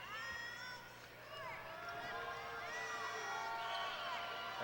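Crowd noise in a basketball arena during a Halifax Hurricanes vs Island Storm NBL Canada game, a steady distant roar with horn blasts and cheering, under a commentator's voice.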